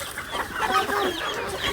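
Hens cluck and chatter steadily at close range while being scattered feed, several birds overlapping.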